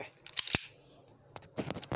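Airgun slide being pulled back by hand, a few sharp metallic clicks and a quick mechanical rattle, close and fairly quiet with brief pauses between.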